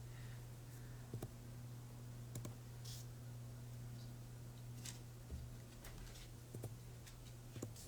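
Scattered light clicks and taps on a computer keyboard, a few isolated keystrokes at irregular intervals over a steady low electrical hum, with no talking.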